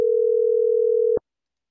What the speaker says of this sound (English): I'm going to mute the ringing for you guys here in a second.